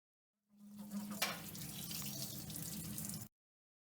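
Water running over a suction machine's air filter as it is rinsed, a steady splashing tap-like flow lasting about three seconds, close and fairly loud with a brief brighter splash near the start.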